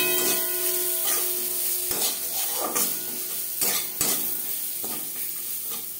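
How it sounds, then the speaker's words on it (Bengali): Curry leaves fry in hot oil in a pan, a bright steady sizzle with crackling bursts and several spatula scrapes, close up and without talk. "কারি পাতা ভাজতে খুব একটা বেশি সময় লাগে না"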